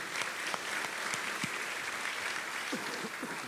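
Applause from an audience at an awards ceremony, a steady wash of clapping that holds evenly for a few seconds at moderate distance.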